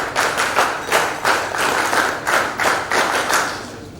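Audience applauding at a silver jubilee alumni event, clapping in steady rhythmic waves for about four seconds with no voices over it.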